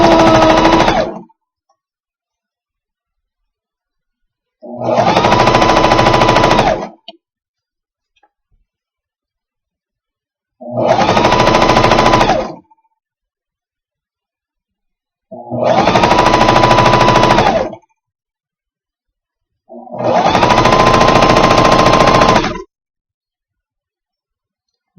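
A Janome 900CPX Cover Pro coverstitch machine runs in five loud, even bursts of rapid needle clatter, each about two seconds long, with silent pauses between them while sewing over a binding.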